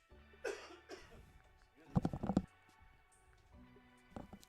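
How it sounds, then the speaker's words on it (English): Several coughs from a person fighting the tail end of a cold, close and fairly loud, in separate bursts with quiet gaps between them. "hang on, I'm about to cough"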